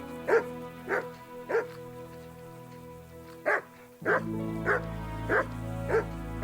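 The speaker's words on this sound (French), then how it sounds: "les chiens, ils vont m'attaquer ou ils vont juste aboyer pour dire que je suis là?" Several sharp dog barks in an uneven series in the video game Kingdom Come: Deliverance, moderately close, with a low droning background that swells midway.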